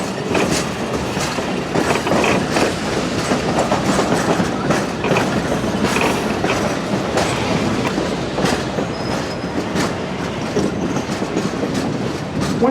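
Missionary Ridge Local passenger train rolling along raised tracks, a steady loud rumble with rhythmic clickety-clack of wheels over rail joints and faint intermittent squeals, continuous throughout with no talk.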